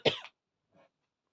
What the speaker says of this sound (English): I am coughing up a lung here.